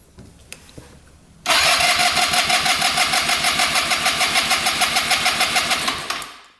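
A scooter engine cranks hard with the throttle held wide open during a compression test, giving a loud, close, steady train of rhythmic pulses for several seconds after a brief quiet start, then stopping abruptly.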